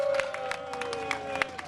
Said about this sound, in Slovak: Obrovský potlesk pre človeka, ktorý pomáha ľuďom, kade chodí.